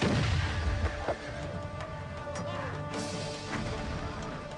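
Cannon bombardment strikes the walls of Constantinople, with a heavy crashing impact near the start followed by a rumbling, sustained din of distant fire and debris.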